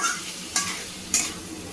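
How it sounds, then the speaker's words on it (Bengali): Spice masala with ginger frying in a pan while being stirred, a continuous soft sizzle broken by two sharp scraping strokes of the spoon, close and fairly quiet with no speech. "আমি এটা ভালোভাবে কষিয়ে নেব।"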